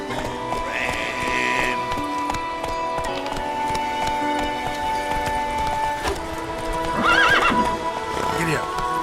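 Horse hooves clip-clop at a gallop in The Witcher 3, with a few neighs and whinnies rising over steady game background sound; a voice speaks briefly near the end.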